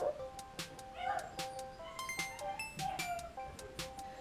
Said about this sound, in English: My dogs are outside and they're crying.